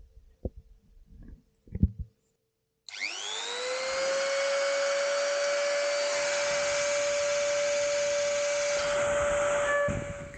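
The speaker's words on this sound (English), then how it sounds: "So I've got the Dremel here, ready to go." Dremel rotary tool spinning up with diamond paste on an Insta 360 camera lens, a sudden steady high whine that holds loudly for several seconds after a few quiet handling knocks.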